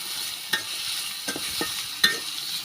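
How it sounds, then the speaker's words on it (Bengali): Onions, green chillies and garlic fry in a pan with a constant bright sizzle, broken by a few stirring scrapes and clacks from the spoon. "আমি এখন পেঁয়াজ কাঁচামরিচ দিয়ে দিলাম, সাথে রসুনও দিচ্ছি।"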